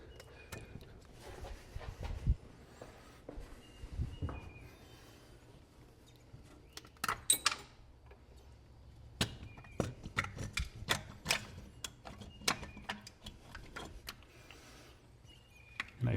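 Carburetor being pulled off a 1965 Mustang GT engine: scattered metallic clicks, clanks and ratcheting knocks from parts being worked loose, close by and irregular, with quiet gaps between bursts and no talking.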